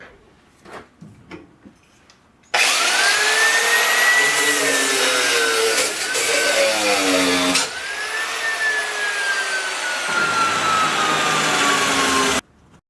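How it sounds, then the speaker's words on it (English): An abrasive cutoff disc slices through steel grate bars, a loud steady high-pitched whine that drops in pitch as the wheel bites into the metal, with a few short taps before it starts and a brief pause partway through. "So the next step was just to cut out, how many? 1, 2, 3, 4, 5, 6, 7 of those bars 11 inches long."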